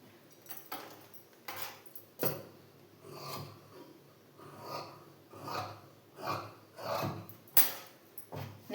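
Blouse fabric being cut with scissors, heard as a close series of soft, rhythmic rasping snips at a steady pace with no talking.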